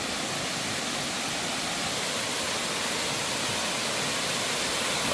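A muddy stream swollen by overnight rain, rushing steadily with a loud, continuous broadband roar of flowing water close by.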